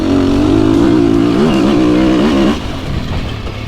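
A 2023 Sherco enduro motorcycle rides past loud and close, its engine droning with a wavering pitch as the rider works the throttle, then dropping off sharply to a lower idle-like hum.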